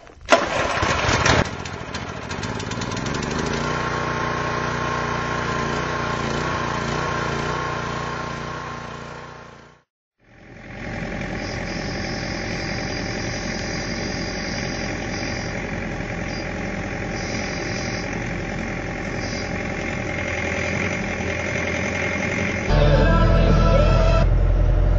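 A small gasoline engine on a farm homestead starts on choke with a sputtering catch, then settles into a steady close idle, briefly cuts out and restarts, running on with a louder shift at the end.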